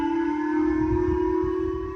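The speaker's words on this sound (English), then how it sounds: "Japanese sirens sounding for the second time in 3 weeks" Japanese civil defense missile warning sirens wail in a steady, sustained tone, loud and unbroken across the whole stretch, with faint low rumbling beneath.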